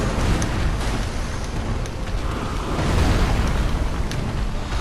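A boss in the video game Dark Souls III flinging fire, a loud continuous roaring rumble with crackling bursts and a swelling surge midway, with no talk over it.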